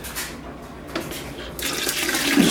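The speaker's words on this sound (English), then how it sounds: "Just add a couple gallons of water to it." Water pouring into a pot of crushed Concord grapes for homemade wine, a steady splashing rush that grows louder and brighter toward the end, close by with no talk.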